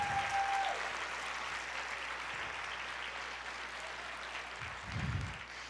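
Church congregation applauding during a Portuguese-language sermon, a steady wash of clapping from a large crowd lasting several seconds, with a slight swell near the end.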